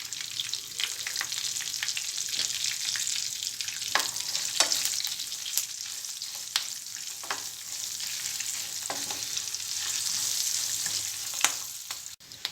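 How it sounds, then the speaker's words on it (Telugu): Peanuts and turmeric tempering sizzle steadily in hot oil, a dense continuous frying hiss with occasional sharper crackles and pops, close and fairly loud, with no voices. "పల్లీలు ఫ్రై అయిన తర్వాత పసుపు వేసుకోవాలి"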